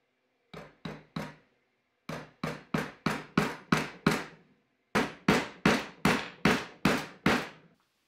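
A wooden mallet drives a chisel into scrap wood in three bursts of sharp, evenly spaced knocks, about fifteen crisp strikes in all, close and clear with brief pauses between the groups.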